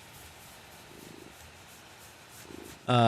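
Soft, close cat purring in gentle rhythmic pulses, faint and steady, before a sudden louder tonal sound cuts in at the very end.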